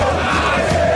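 Ponte Preta football supporters roar in the stands at the Canindé stadium during a Campeonato Paulista match, a loud, sustained crowd chant and cheer with no break.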